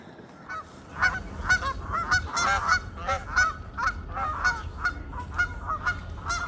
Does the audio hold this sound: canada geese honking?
yes